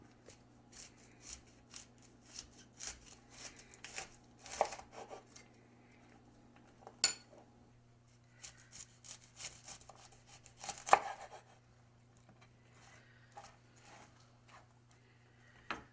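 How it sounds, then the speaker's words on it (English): Knife slicing a halved cauliflower into thick one-inch steaks on a board, giving scattered soft crunchy cuts and taps with a few sharper snaps, over a steady low hum and no talk. "Then you want to cut maybe 1 inch or so steaks from it."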